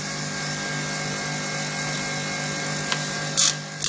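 An optical lens cutter grinds a CR plastic lens on its rough wheel, giving a steady mechanical whine and hum with a couple of short harsher bursts near the end.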